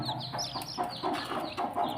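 High, thin peeping calls repeat rapidly from several chicken chicks close by, overlapping in a busy chatter with some lower clucking from a hen mixed in.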